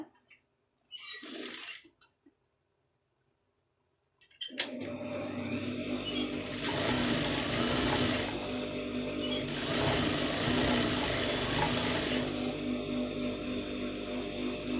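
A sewing machine stitches a folded blouse sleeve, running in a steady close whir after a brief short burst and pause, continuing without talk.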